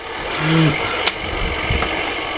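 Engine of an old tractor in Farming Simulator 2015, a steady mid-low drone with a short louder rise early on and a small click near the middle, no voices.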